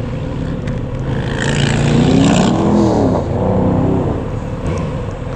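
Kawasaki Z900RS motorcycle engine running steadily while being ridden, a loud continuous roar with rising and falling revs around the middle, heard close and alone with no talking.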